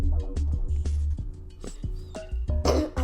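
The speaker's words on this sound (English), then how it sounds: "I don't know why I keep coughing." A person coughs repeatedly indoors, a series of short sharp close coughs and throat clearings spaced irregularly, with quiet breathy sounds in between.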